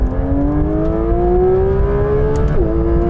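Porsche GT3 RS, GT3, GT4 RS and GT4 sports cars accelerating hard together in a second-gear drag race from about 40, a loud, steady engine roar rising in pitch, with a brief gear-change dip near the end.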